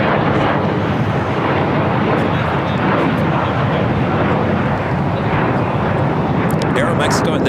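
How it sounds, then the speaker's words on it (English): An American Airlines Airbus A321neo takes off at LAX, a loud continuous broadband roar of jet engines with wind rush filling the whole stretch, close and unbroken. "The next takeoff is American Airlines flight 509 heading to Kona."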